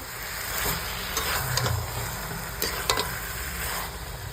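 Spiced dried kachki fish mixture sizzling steadily in a pan, with a few scraping stirs of a spatula standing out near at hand, no talking.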